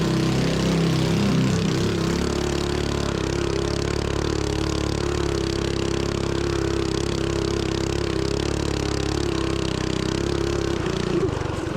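A B200R minibike fitted with a swapped-in 12 hp engine runs in thick sand inside a tunnel, its engine droning steadily at part throttle with a couple of rises in revs, loud and close throughout.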